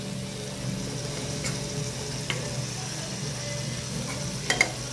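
A spoon stirs carrot and bean biryani masala in a pan over a low, steady sizzle, with a few light scrapes and taps against the metal.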